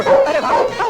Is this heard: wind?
no